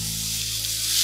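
Pork trotter skin sears in a hot pan, giving a constant loud sizzle, close up and unbroken, with no voices over it.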